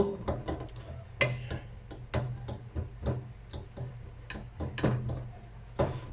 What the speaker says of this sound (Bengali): আমি একটু চামচ দিয়ে ভালো করে মিক্স করে নিতেছি